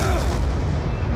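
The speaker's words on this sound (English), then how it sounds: "Shotgun." Shotgun blasts in the video game Black Ops 2 give a deep, booming report that rings out loud and close, followed by a rumbling tail.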